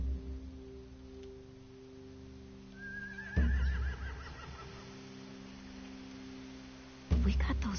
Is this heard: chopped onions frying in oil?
no